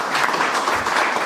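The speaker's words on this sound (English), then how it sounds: "We can give a round of applause for" Audience applause at a business talk, a short, fairly loud burst of clapping from a modest crowd with no voices over it.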